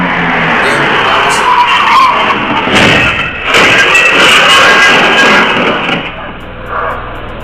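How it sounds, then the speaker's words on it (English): Motor vehicles speeding on a road, with loud sustained tire skidding and squealing, engine roar and sharp cracks, close and intense nearly throughout. "Notice those motor vehicles are traveling at a certain speed."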